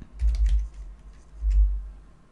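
Keys on a computer keyboard clack in two short bursts of typing, close and fairly soft, with a quiet low hum between them.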